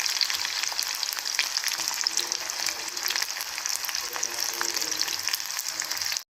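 Curry leaves and finely chopped potatoes fry in a pan with a bright, steady sizzle and faint crackles that run without pause until an abrupt stop, with no speech.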